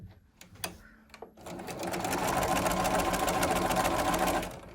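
A sewing machine stitches quilt fabric for a house block, starting with a few short clicks and taps before running in a loud, steady, rapid whir for several seconds, then slowing at the end.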